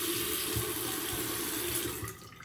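Steady broadband rush of water running from a newly installed bathroom faucet into a sink, continuous and close, tapering slightly at the end with no talking.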